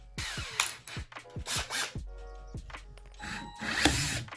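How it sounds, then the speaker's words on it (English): A power drill whines in several short bursts, spinning up and biting into a wall stud, with brief pauses and light clatter between runs. "So that way we can drill that one right there, put that one into the stud."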